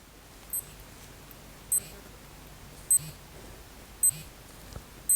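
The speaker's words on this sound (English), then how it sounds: "there is a beep, but the beep happens after you release the button" A Casio G-Shock DW-H5600 digital watch gives five short, crisp beeps after its button is released, spaced roughly a second apart against a quiet background.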